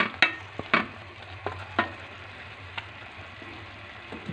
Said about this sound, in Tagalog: ilagay na natin yung beef tapa